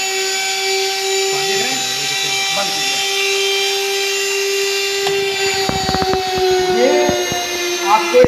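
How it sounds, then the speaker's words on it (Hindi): A DC generator runs with a steady machine hum, while intermittent crackling snaps from sparking at its carbon brushes burst in toward the end. Voices talk over the running machine. "देख रहे चिंगारी मार रहा है, कार्बन ब्रश से लग रहा है"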